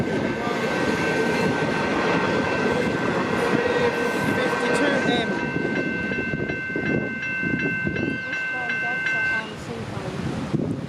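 Train on a single-line track passing the Seaholme railway crossing with red and white boom gates, giving a loud steady rumble with crossing bells ringing for most of the time, under some background talk.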